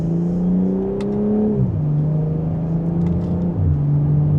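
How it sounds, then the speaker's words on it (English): A 2026 BMW M440i Gran Coupe in Sport Plus mode accelerates in second gear, heard from inside as a loud, steady engine drone rising in pitch with a brief dip, alone without talk. "And just a minor acceleration."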